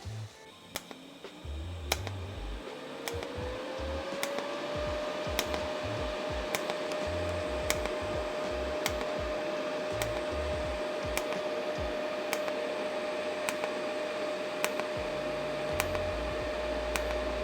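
A Dnipro-M TG-20D AC/DC TIG welder running at about 150 amps, giving a steady buzzing hum with a rising tone at the start that holds level, plus a regular faint ticking throughout and no talk.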